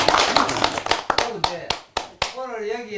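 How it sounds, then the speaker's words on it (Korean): A Korean lecture audience gives a short burst of applause, sharp claps over the first two seconds that thin into a few separate claps before a voice takes over. "예, 박수."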